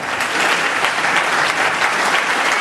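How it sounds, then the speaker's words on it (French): A large audience at a hypnosis show claps steadily and loudly, a dense, continuous wash of applause filling the room without a break. "Et vous pouvez les applaudir"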